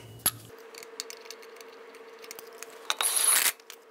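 Lug nuts threaded by hand onto a wheel of a 2007-2011 Toyota Camry during front CV axle replacement: light metallic clicks and ticks scattered throughout, ending in a brief louder ratcheting burst near the end, close and alone.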